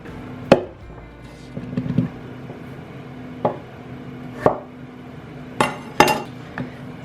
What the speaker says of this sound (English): Some of them I'm just gonna chop in half.